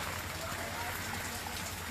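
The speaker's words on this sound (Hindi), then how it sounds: "बहुत बारिश हो रही है।" Heavy monsoon rain pours down in Maharashtra as a thick, unbroken wash of close drumming water, steady and loud for the whole moment.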